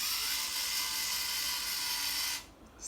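Small motor of an MI robot builder rover kit running in reverse: a steady high-pitched whir with hissy noise, constant and close for over two seconds before cutting off abruptly.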